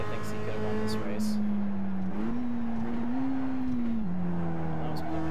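A single Mazda MX-5 Cup race car engine in the iRacing game drones loudly and continuously at Summit Point Raceway, its pitch rising and dipping with gear shifts and throttle changes.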